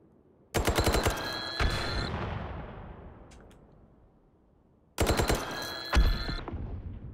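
Two loud bursts of rapid automatic gunfire in the VR game Hot Dogs, Horseshoes & Hand Grenades, each a quick string of sharp shots followed by a long echoing decay, close and unaccompanied by talk.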